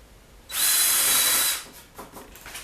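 A power drill whirs once for about a second at high speed, driving a screw into a wooden shelf, followed by faint handling sounds.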